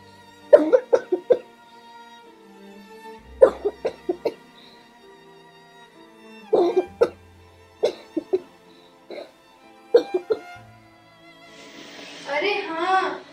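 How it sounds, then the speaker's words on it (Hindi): A person coughing in several close bursts of two to four harsh coughs with pauses between them, ending in a longer rough noise, in a school stage play. "तो खांसी है और तू मुंह पर हाथ भी नहीं रखता"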